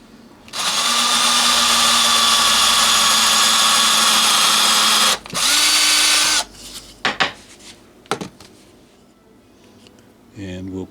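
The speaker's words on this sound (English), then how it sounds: "we'll drill a tiny hole" A power drill bores a tiny hole through a wooden dowel for a display and storage railway wagon, a steady high whine running about six seconds with a short break, then scattered handling knocks and brief speech.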